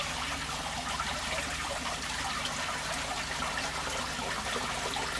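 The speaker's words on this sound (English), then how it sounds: "we can slowly add some of the water back. Now I do it in a jug" Water is poured from a jug back into a home fish tank, a steady splashing trickle heard close up and continuously throughout, with no voices.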